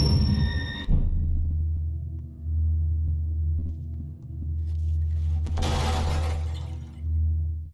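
Glass shatters in the video game Amy as a sudden crisp crash. A deep, droning rumble follows and pulses steadily, with a burst of brighter noise partway through.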